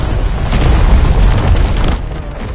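A grenade blows up in a video game: a loud, deep, rumbling boom that rolls on for about two seconds before easing off, heard alone without speech.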